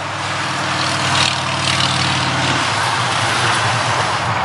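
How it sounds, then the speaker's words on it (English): A heavy vehicle rumbles past on a nearby road, its engine noise swelling and then fading into a steady roar of traffic. "Always some noisy vehicle going by."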